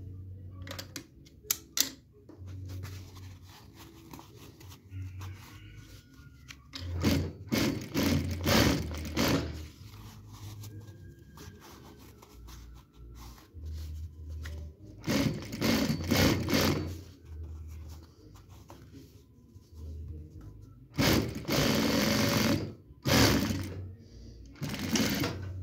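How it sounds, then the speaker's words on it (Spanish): Sewing machine stitching a French seam in fabric, 8 mm from the edge, running in several loud, steady bursts with quiet pauses between, the motor whirring up close. "Entonces vamos a coser 8 milímetros."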